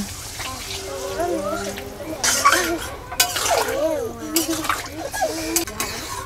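Ginger-garlic paste, onion paste and water go into a pan of browned potatoes, bringing clinks, splashes and wet stirring against the metal under steady talk in a home kitchen.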